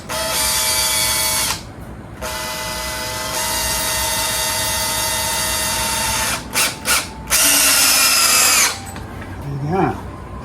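A power drill drives screws into 2x4 boards while prepping a sailboat, several long high whirring bursts separated by short pauses, then quick stuttering pulses and a final brief spin, with faint talk between runs.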